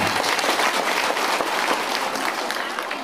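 A crowd at an outdoor political rally claps steadily and loudly, a dense wash of applause that holds throughout with little variation.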